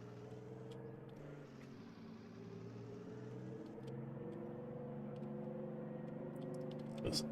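A steady, low video game truck engine drone runs throughout, idling and rising slightly in pitch midway, with a brief louder thump near the end.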